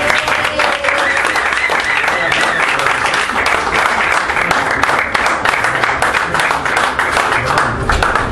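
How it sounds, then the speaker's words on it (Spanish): An audience at a live jazz concert applauds the drummer with steady, loud, dense clapping that continues unbroken throughout. "un fuerte aplauso para Mario Agulla"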